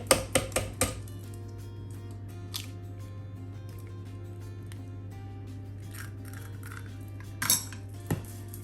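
Spoon clinks against a mixing bowl as egg is beaten into creamed butter and sugar for cupcakes: a quick burst of sharp taps, then a low hum with faint scrapes and a couple of later clinks.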